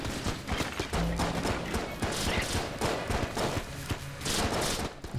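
Sustained shooting with the plague pistol in the video game Enter the Gungeon, a dense, loud run of rapid shots, with busy game effects and impacts mixed in throughout and no voices.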